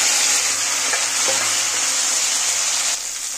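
Taro stolons (loti) hit hot oil in a pan, producing a loud, dense, even sizzle with a couple of brief clinks from a utensil, easing slightly at the close.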